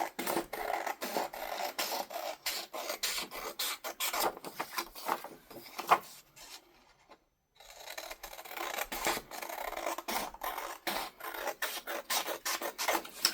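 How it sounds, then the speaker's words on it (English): Paper card edges are trimmed by hand in a quick run of close, quiet scratching and rasping strokes, broken by a brief pause midway. "So we will just trim these off here."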